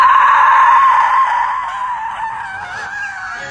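A woman in the TV series The Penguin lets out a loud, sustained, high scream that slowly fades and wavers over several seconds, heard alone.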